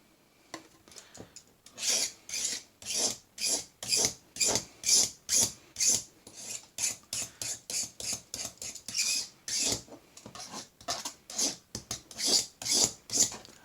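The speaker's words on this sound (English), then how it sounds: "I can just take my knife and I'm just going to run it down the edge like this" Knife blade scraped repeatedly down the edges of plastic model kit parts, a steady series of close, rasping strokes in quick rhythm, alone.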